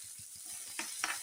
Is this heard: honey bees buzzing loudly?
no